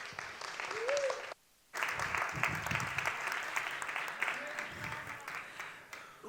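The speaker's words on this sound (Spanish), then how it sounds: "Venga, un aplauso." A WordCamp conference audience in Madrid applauds at moderate volume. The clapping breaks off for a brief moment, then picks up again as voices talk over it.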